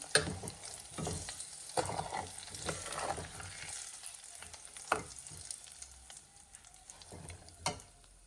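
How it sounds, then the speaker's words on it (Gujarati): Masala spices, including fennel seeds and turmeric, sizzle and fry in plenty of hot oil while being stirred, with a steady crackle under repeated scraping clinks of a spoon against the pan. "જો ગરમ ગરમ તેલ છે ને એટલે મસાલો આપણો જે બોળો હોય ને એકદમ શેકાતો હોય ને"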